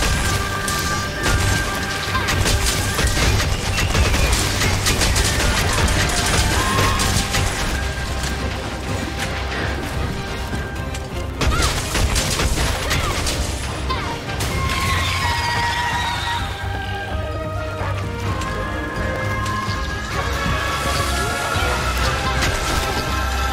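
Weapon explosions and heavy impacts from the Monster Hunter Rise video game burst in dense, repeated crashes over continuous game sound. The sound is loud throughout, with no talk.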